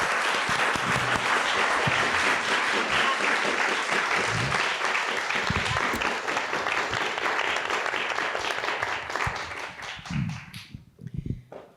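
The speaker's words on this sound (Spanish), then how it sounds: "Bueno, un aplauso para la maestra." Sustained audience applause at an academic talk on creative exploration and performance, a dense, loud wash of many hands clapping that tapers off near the end into a few scattered claps.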